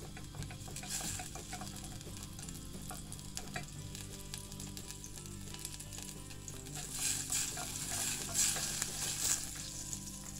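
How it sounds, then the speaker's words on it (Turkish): A spoonful of butter melts in a pan for a meatball sauce, sizzling steadily and softly, with the sizzle growing brighter toward the end. "Şöyle sosu için 1 tatlı kaşığı dolu dolu tereyağı erisin."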